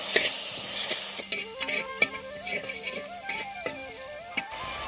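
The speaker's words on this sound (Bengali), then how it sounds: "মশলাটা ভালো করে কষানো হয়ে গেছে" Spice paste of turmeric, chili, coriander powder and salt sizzles in a pan for raw jackfruit curry. A bright hiss opens, then eases into steady frying with scraping stir strokes and clinks, no talk.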